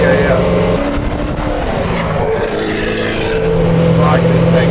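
C5 Corvette engine running loud and close, a rough low idle with revs rising and settling across the stretch while people talk nearby.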